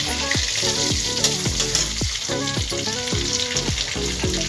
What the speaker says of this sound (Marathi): आलं लसणाची पेस्ट टाकते